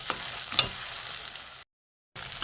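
Tender coconut drying in a pan as it is stirred, a soft close sizzle with a sharp scrape or clink near the start, then a brief silence before the frying hiss resumes.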